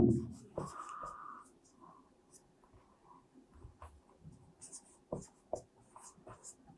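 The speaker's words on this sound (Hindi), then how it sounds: "एरिस्टोटल हिंदी में लिखते हैं उसको" Chalk or a marker writes on a classroom board in short scratchy strokes, fairly close, while a teacher speaks over and between them.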